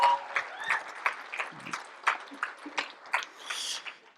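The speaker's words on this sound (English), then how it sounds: "Give them a big round of applause." Applause for volunteers at a TEDx event, a scattered and fairly faint round of clapping with distinct individual claps rather than a dense roar, heard from a distance.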